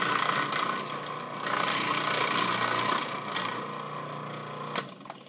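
An old KitchenAid appliance slicing green onions runs with a steady mid-pitched motor whir that continues throughout and then cuts off near the end.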